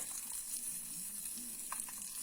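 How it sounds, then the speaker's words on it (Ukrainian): Heart meat sizzles in a small compact frying pan. The frying hiss is steady and moderately loud and close, with faint bubbling crackles throughout. "От вам вже шкварчить, шкварчить і готується, готується серце."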